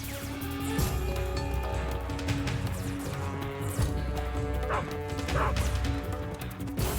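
A guard dog barks in the Metal Gear Solid 3: Snake Eater video game, repeated sharp yips and barks over game music and crashing effects, fairly loud and close.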